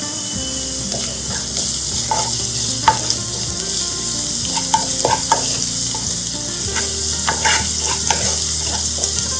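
Ginger garlic paste and curry leaves sauté in a pan with a constant close sizzle, while a spoon stirs and scrapes the pan in short, repeated strokes.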